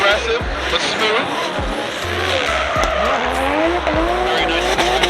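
A drift car runs at Orlando Speedworld with a loud, steady engine roar and long tire squeals, while rhythmic thumps pulse underneath and a commentator talks over it.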